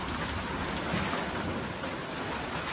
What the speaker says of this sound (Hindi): देवताओं की धरती पर बारिश